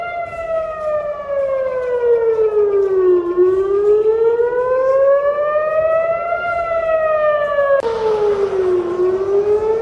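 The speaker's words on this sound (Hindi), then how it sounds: "टेल अवीव में लगातार सायरन्स बज रही हैं" An air raid siren in Tel Aviv wails in a long, slow rise and fall, loud and sustained with no talk, joined by a sudden burst of broadband noise near the end.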